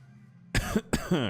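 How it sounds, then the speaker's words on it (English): Two quick, harsh coughs come close together after a moment of near silence, loud and close. "Cough, cough."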